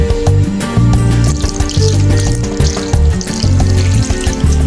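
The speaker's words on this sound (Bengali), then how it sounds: "সোয়াবিনটা এবার আমি ঠান্ডা জলে ধুয়ে নেব।" Boiled soybeans are rinsed in cold water in a kitchen, giving steady splashing and sloshing that runs without a break for several seconds, with a low background hum.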